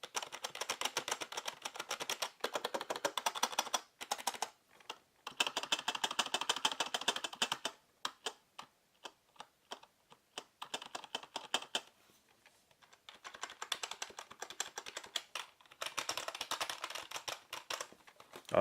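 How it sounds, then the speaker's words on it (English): Keys on a Perixx PERIBOARD-512II ergonomic split keyboard are pressed in a close-up run, with rapid clattering bursts of typing separated by short pauses and isolated single clicks, fairly quiet throughout. "Just going to do a close-up press of the keys just so you can have some idea."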